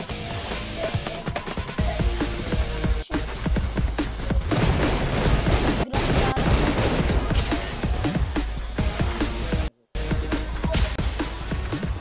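Rapid bursts of video game gunfire and crashing impacts fill a loud, busy scene, with brief breaks and a sudden silence near the end.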